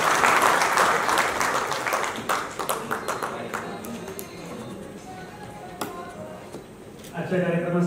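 Audience clapping to welcome a senior journalist at a Pune press gathering, dense applause at the start that thins to scattered claps, with a voice speaking near the end.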